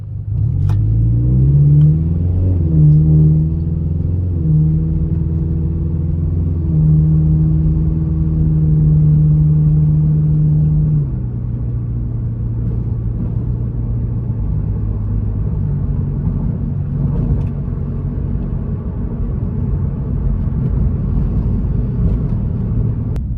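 Engine of a bagged Subaru FRS revving and accelerating through gears while driving on a windy day, a loud steady close drone with shifting pitch steps, no talking.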